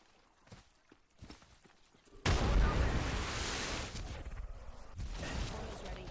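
A frag grenade explodes in the Apex Legends video game, a sudden loud blast after quiet footsteps, followed by a sustained roaring rumble and scattered impacts.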